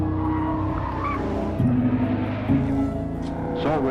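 A Shelby Cobra sports car skids with squealing tires and a revving engine, loud and close, with faint voices mixed underneath.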